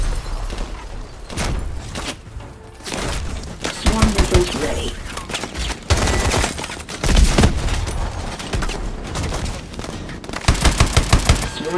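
Swarm missiles launching in Call of Duty Advanced Warfare, a series of sharp rapid bursts and booms at varying loudness, mixed with other battle noise and a synthetic game voice announcing status.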